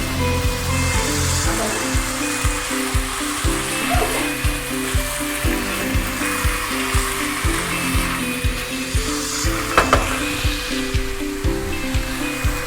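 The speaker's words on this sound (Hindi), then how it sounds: "चिकन डाल के उसे अच्छे से भून लें," Chicken pieces searing in hot oil in a pot for biryani, a loud continuous sizzle with regular clanks and scrapes of stirring, close up and without talk.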